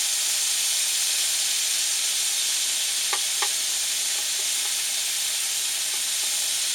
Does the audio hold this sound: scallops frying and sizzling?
yes